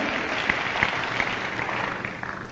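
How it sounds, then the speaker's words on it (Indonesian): Church congregation applauding during a Pentecost service, steady dense clapping with a few sharper claps standing out, moderately loud and continuous with no talk over it. "Berikan tepuk tangan saudaraku, amin."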